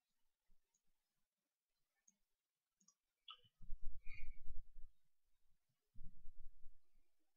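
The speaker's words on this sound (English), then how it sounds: "Maybe if we just shuffle it a bit more." Mouse clicks in the Anagram Magic word game to shuffle conundrum letters, a few faint isolated ticks followed by louder clustered bursts of clicking in two short bouts.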